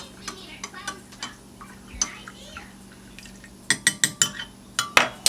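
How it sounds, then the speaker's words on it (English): Ingredients for potato soup with chicken broth flavoring are stirred in a bowl as soft scraping gives way to a quick run of sharp utensil clinks against the dish near the end, close and fairly loud. "I'm going to stir it up, and I'm going to put it all in the pot."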